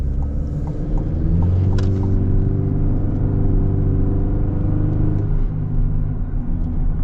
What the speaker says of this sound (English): It's cool to hear the little bit of turbo noises too.